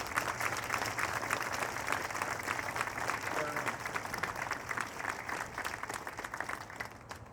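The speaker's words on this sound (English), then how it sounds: "Give them a round of applause" An audience at a town September 11 remembrance gives a round of applause, a steady mass of clapping from a moderately distant crowd that lasts several seconds.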